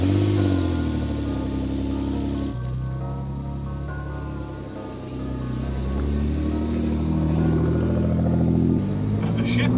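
A Nissan GTR, bought as the cheapest one going, accelerates hard, its engine drone climbing in pitch before dropping at each of two gear shifts, then pulling up again. The sound is loud, steady and close, with no voice over it.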